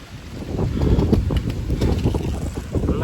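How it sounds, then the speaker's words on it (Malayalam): Strong wind gusting across the top of a dam, a steady rumbling roar of buffeting against the microphone that swells and eases throughout, close and fairly loud with no voices over it. "നല്ല കാറ്റുണ്ട് കേട്ടോ"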